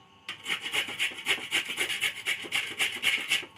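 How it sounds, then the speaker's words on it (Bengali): A raw potato is rubbed against a hand grater in quick, even strokes, a bright rasping scrape repeating about four times a second, close and clear with no voices. "এই যে আলুটা আগে ঘষে নেব"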